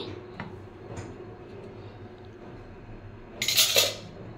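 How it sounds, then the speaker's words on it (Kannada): A metal kadai (wok) is set down on a kitchen stove, giving a short burst of clanking near the end after a quiet stretch of faint room noise. "ಒಂದು ಕಡಾಯಿ ಇಟ್ಟಿದ್ದೀನಿ"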